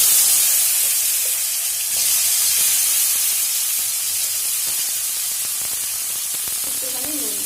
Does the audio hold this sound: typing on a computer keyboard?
no